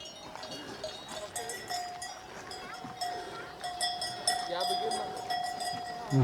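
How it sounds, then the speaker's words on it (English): Bells worn by grazing cows in Berchtesgaden National Park near Obersee, Germany, clank and tinkle in an irregular, overlapping chorus at moderate distance, with faint bleat-like calls and a voice talking over them. "Hopefully you can hear that chorus of cow bells."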